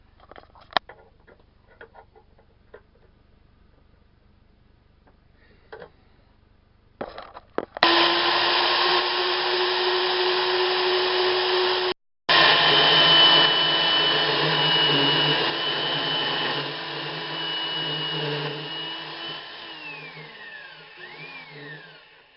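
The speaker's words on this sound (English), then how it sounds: "On my bandsaw, I cut a little bit crooked." A bandsaw cuts a wooden guide bar bracket for a plunge router base, starting after a few faint workshop knocks, then a loud steady whine with a short break partway and a tapering finish.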